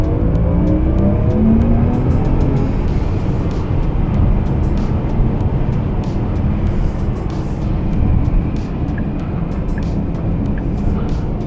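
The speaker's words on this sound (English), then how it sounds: "We were able to quickly accelerate up to merging speed." A 2025 Porsche Macan EV Turbo electric SUV accelerating hard up to merging speed, a loud continuous rush of road and wind noise with rising whir, steady throughout with no talking.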